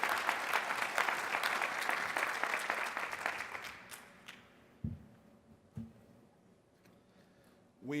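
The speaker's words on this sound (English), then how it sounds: "One more round of applause for Mayor Smith." An audience at a mayors' conference plenary session applauds Mayor Smith in a dense, steady burst that fades out after about four seconds, leaving a quiet hall with a couple of dull thumps.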